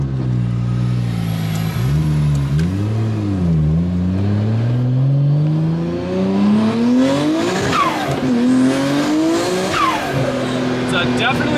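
A Nissan R34 GTR making over 350 wheel horsepower pulls hard through the gears, its engine roaring and rising in pitch with sharp drops at each shift, loud and close from inside the car, with occasional voices over the noise.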